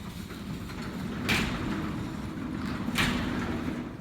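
A garage door fitted with low headroom quick turn brackets runs open, giving a steady low rumbling roll with two brief louder clatters as the rollers pass the sharp track turn, heard close with no talking.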